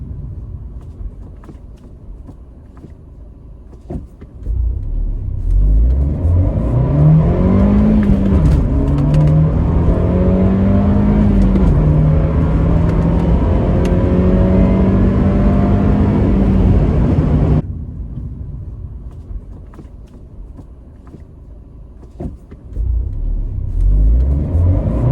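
Fiat 124 Spider Abarth with a six-speed manual gearbox, engine pulling hard on a highway with a rising, wavering engine note that holds for about twelve seconds, then drops back to a steady cruising hum.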